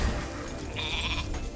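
A single sheep bleat in Spyro Reignited Trilogy on PS4 Pro, a short wavering cry, rises over steady game background noise and lasts about half a second.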